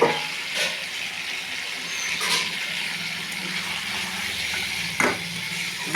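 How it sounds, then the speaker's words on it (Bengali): Potatoes and chilli frying in hot oil make a loud, rushing sizzle, like gushing water, that holds steady throughout with a couple of brief surges of clatter. "এবার আলুটাকে ছেড়ে দিলাম, ভাজা আলু আর চিলটা।"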